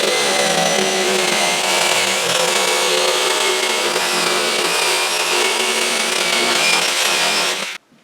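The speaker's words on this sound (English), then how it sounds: "we'll just do a 4-inch hole for the pipe" Power saw cutting a 4-inch hole through damp wooden subfloor for a toilet flange pipe, a loud continuous buzzing whine with grinding wood noise for several seconds, then stopping abruptly.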